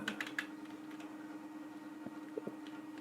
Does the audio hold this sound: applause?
no